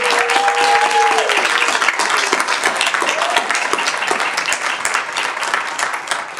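A crowd at a youth poet laureate commencement applauds the poetry finalists with sustained, even clapping, while a brief voice rises over the applause early on.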